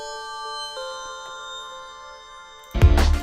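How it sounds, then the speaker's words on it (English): A synthesized bell lead with heavy EQ, made in Logic Pro X, plays sustained bright tones on its own before a louder burst of low, full sound comes in at the end. "Some bells."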